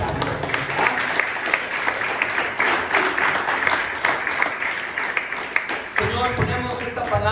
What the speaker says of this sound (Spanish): ¿Cuántos podemos dar un aplauso al Señor por este pasaje?